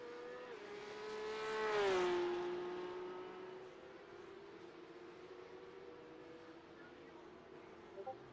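Porsche Cup race car in a sim racing event at Long Beach, its engine note rising as it nears, peaking in a loud pass with a pitch drop, then fading to a steady distant drone, with commentary over it.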